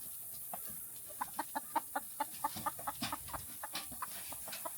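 Chickens clucking on a farm during a goat escape, a steady series of short, evenly spaced clucks rising and falling, fairly faint against a constant background hiss.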